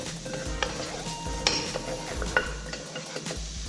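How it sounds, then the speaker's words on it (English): A spoon scrapes and stirs black pepper and ground cumin into vegan chilli in a pot, with soft clinks against the metal over a low, continuous sizzle, close up and without speech. "And stir that all together."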